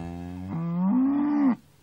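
White Park cattle give one long, loud moo, close by, rising and holding before cutting off abruptly, with no talk over it.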